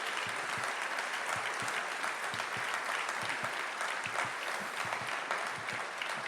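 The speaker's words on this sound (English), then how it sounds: "Give her a warm applause." A lecture audience in a hall breaks into sustained applause, dense and steady clapping from many hands heard throughout at moderate distance.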